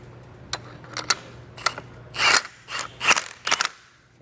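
A coil spring compressor is tightened onto the front strut of a 2003-2007 Mercedes-Benz W203 C240. It gives a close series of sharp metallic clicks and ratcheting bursts, uneven in rhythm and loud against a quiet background, with no talking.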